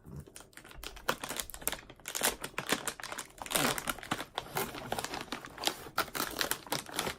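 Crinkly plastic of a Ziploc bag holding Hercules candy being handled and opened, a dense run of close, crackling rustles and snaps over several seconds with no talk.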